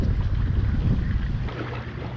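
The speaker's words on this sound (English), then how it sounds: "The wind is still kind of nasty, but it's not completely terrible." Wind gusts steadily across an open northern Indiana lake while fishing, a constant roar buffeting the microphone with low rumble and no voices.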